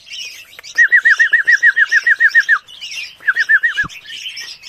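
Young red-whiskered bulbuls on a farm keep up close, bright chirping while learning to eat banana, one bird repeating a rapid rhythmic trill in two bursts over the others' calls.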